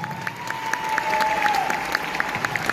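An audience in a stadium hall applauds, a dense, steady patter of many hands clapping at moderate distance, sustained through the moment with a faint background tone.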